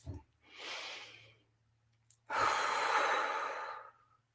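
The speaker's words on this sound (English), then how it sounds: "let's take a breath" One person takes a slow breath in and then lets a longer, louder breath out, close and clear, with no speech.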